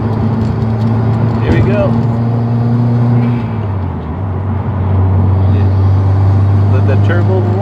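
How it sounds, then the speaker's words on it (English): Turbocharged Subaru WRX accelerating at highway speed, a loud continuous engine roar with turbo whine rising and falling and a brief dip midway, heard from inside the car; someone speaks briefly over it. "Let the turbo whine."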